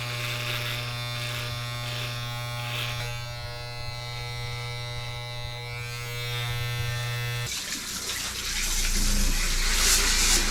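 A close electric shaver buzzes with a steady hum inside a van, then cuts off as a shower's running water takes over with a loud gushing hiss.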